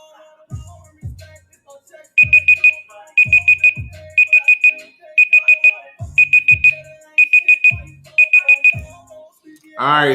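A quiz timer alarm goes off in repeated bursts of rapid, high electronic beeps, loud and steady, with dull low thumps between some bursts.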